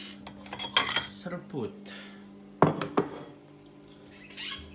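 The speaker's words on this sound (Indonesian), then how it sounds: "Ini odadingnya kita masukin piring." Pieces of odading fried dough are set onto a plate, making a few sharp clinks and clatters of crockery and utensils, close and clear, with a brief spoken word.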